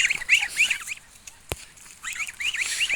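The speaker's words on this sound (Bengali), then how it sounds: "আপনার হাঁস আপনার কাছেই" Young geese calling nearby, bursts of shrill, rapid peeping at the start and end, with a quiet gap and one sharp click in the middle.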